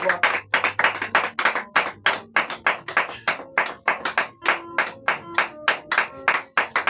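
A church congregation applauds in steady, rhythmic claps, loud and close, with a low sustained tone underneath and brief pauses between bursts of clapping.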